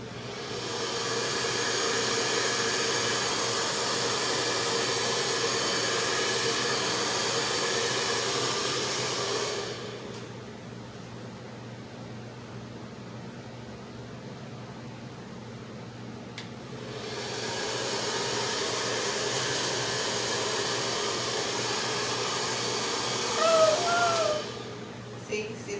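A dryer blows air over freshly poured paint in a Dutch pour, producing a loud, steady airy whoosh that cuts off for several seconds, then resumes, with brief talk near the end.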